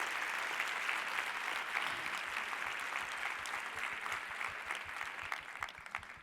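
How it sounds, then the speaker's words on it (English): A conference audience applauds in a steady, dense wash of clapping that holds evenly and thins slightly toward the end, with no speech over it. "Thank you for the applause."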